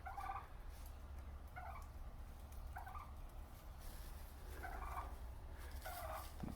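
Turkeys gobble repeatedly inside a barn, with five bursts of rapid, warbling calls at irregular intervals over a low, steady rumble.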